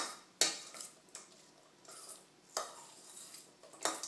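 Chicken salad gently rolled in dressing in a bowl: a few distinct clinks and scrapes of utensil against dish at uneven intervals, fairly quiet, with no talk.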